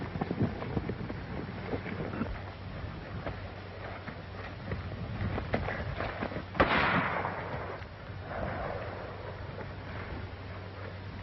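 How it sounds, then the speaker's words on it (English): Fireworks going off outdoors, with scattered crackles and pops and one sharper, louder burst near the middle, all set against a rumbling background of hooves and wind. "right about now, they're looking at some fireworks"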